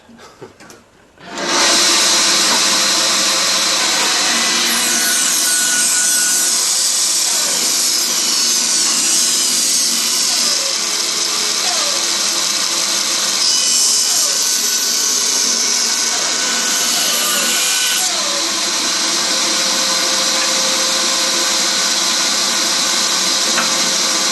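A power saw cutting a piece of alder timber to dimension for a segmented turning ring, a loud steady machine roar that starts abruptly and runs continuously, close by and with no talking.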